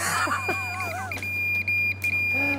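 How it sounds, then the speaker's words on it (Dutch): A building alarm beeps in steady high repeated tones after people unlock and enter a site at night, with chirpy intermittent sounds and a constant low hum underneath. "Het alarm ging meteen af."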